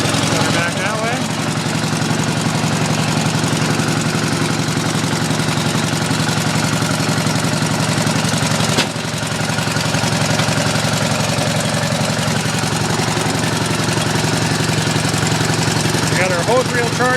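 A 1989 Ford F-350 brush truck engine idles loud and close, a steady mid-pitched rumble with a faint knock, briefly dipping midway before carrying on evenly.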